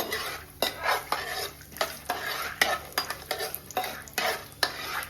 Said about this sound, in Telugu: ఆవాలు, జీలకర్ర, గుడ్డలు వేసి బాగా వేపాలి